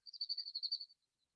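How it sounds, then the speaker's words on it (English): A short run of high, rapid chirping notes, fairly faint, lasting under a second with no talking. "hopefully you can hear some of the birds singing in the background"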